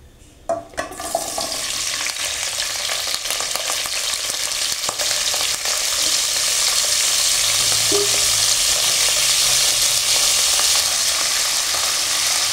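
Cut potatoes and flat beans hit a hot frying pan with nigella seeds, giving a few brief clatters and then a loud, continuous sizzle that holds steady throughout.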